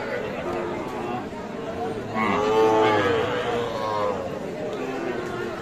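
Cattle at a busy market where Sahiwal heifer calves are sold, with one long moo rising over the hubbub of crowd chatter and people talking nearby.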